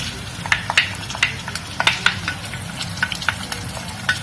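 Chopped tomatoes hitting a hot frying pan give a steady close sizzle and crackle, with sharp stirring scrapes and clicks coming every fraction of a second, no voices.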